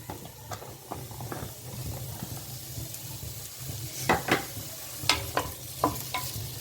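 Raw papaya pieces go into hot oil for chutney, giving a soft steady sizzle under sharp scraping and stirring strokes of a spatula against the pan, closer and louder toward the end.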